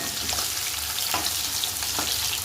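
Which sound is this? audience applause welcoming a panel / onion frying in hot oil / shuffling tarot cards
onion frying in hot oil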